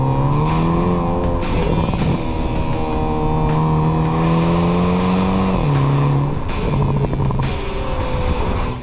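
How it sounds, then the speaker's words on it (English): The 2.0-litre turbo four-cylinder exhaust of a 2023 Hyundai Kona N revs steadily and loudly, its pitch holding then dipping and climbing again as the engine works through the throttle. "Hyundai has some of the better exhaust tunes for a turbo 4-cylinder"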